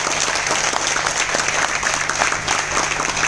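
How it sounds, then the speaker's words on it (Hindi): Audience applause fills a hotel hall during a network marketing training in Ahmedabad, a steady wash of many hands clapping over a low background hum. "जबरदस्त तालियां"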